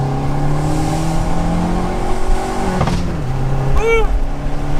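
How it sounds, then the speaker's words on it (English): A red 2018 Fiat 500 Abarth revs its exhaust, the engine tone climbing and falling loudly close by, with a brief sharp pop-like burst near the end. "We're gonna give it some gas now and just see how much louder we can hear that exhaust"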